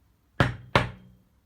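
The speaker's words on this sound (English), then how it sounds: "In this example, the double knock" Two sharp knocks in quick succession, likely knuckles on a door or hard surface, close and crisp with short decaying tails and silence around them.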